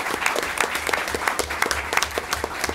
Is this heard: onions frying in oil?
no